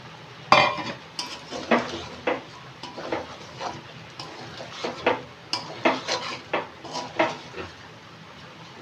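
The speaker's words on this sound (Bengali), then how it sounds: "এবারে এই আলুগুলো দিয়ে দেবো আমি" A metal spoon scrapes and clinks repeatedly against a wok as potatoes are added to biryani. The knocks come close and irregular over a faint background of cooking.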